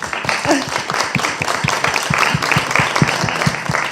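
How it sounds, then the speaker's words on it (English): Audience applause for someone speaker at a women's conference, a close, busy patter of many hands clapping with distinct individual claps throughout. "I think she deserves a round of applause"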